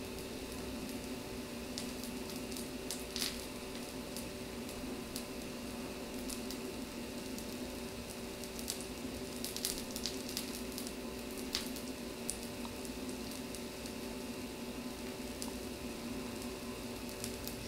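Pancake batter made from a quick just-add-water mix cooks in a hot pan with a steady, close, low sizzle and faint crackles throughout, no talking.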